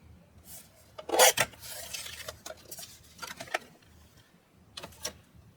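Paper is trimmed to size for a scrapbook wedding album with quiet scraping, slicing strokes, one sharper rasping cut and a few soft rubs and taps, close and without speech.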